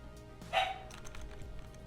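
A single dog bark rings out outdoors near water, fairly faint and set against a low steady background hum, with no talking.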